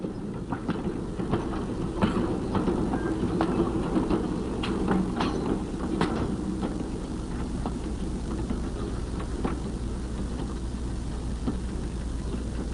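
A locomotive rolls over broken track, giving a steady low rumble with scattered sharp clanks and knocks from the rails, moderately loud and continuous with no voices.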